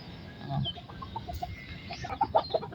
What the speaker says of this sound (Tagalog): Ang gawa naman yung tandang na yan. Pag walang lumalapit sa kanya, mananawag.